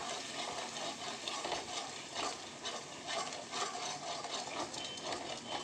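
Paneer masala with a cashew-spice paste sautés in a pan, a dense, continuous sizzle and crackle with soft rhythmic stirring scrapes, close and steady for several seconds.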